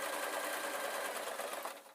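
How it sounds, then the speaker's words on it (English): A sewing machine stitches steadily at high speed, a continuous close whirring clatter that slows and stops at the end. "just allow the sewing machine to sew it"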